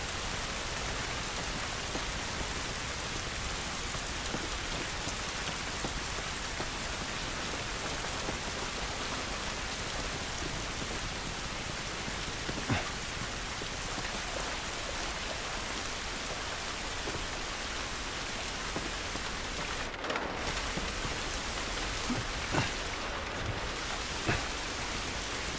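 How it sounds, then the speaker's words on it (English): Steady outdoor rain in The Last of Us Remastered hisses evenly through the whole stretch, dense and constant, with a few faint thuds and ticks over it and no talk. "This rain ain't gonna do us any good."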